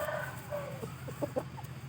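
Pradu Hang Dam Thai chickens cluck softly in a few short calls over a low, steady background hum.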